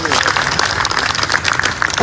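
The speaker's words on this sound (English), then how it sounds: "Please a resounding round of applause for him" An audience bursts into applause after a speech, producing dense, loud clapping with a bright crackle across the whole stretch, while a voice talks over it.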